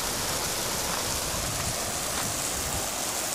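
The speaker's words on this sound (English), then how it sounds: "So I'm going to simulate the rain with a garden hose." Garden hose spraying water to simulate rain on a Bug Out Bungalow shelter, a steady, dense hiss of droplets pattering on a surface, constant and close with no talking.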